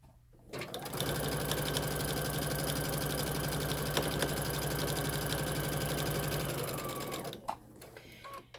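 A Brother Dream Creator Innov-is VM 5100 sewing machine fitted with a zipper foot topstitches along a seam line, starting with a soft click and then humming and chattering in one steady, loud run for about six seconds before stopping.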